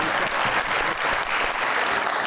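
Studio audience on a television talk show applauding a theatre actor, a loud, dense and steady roar of many hands clapping throughout, with no voices on top.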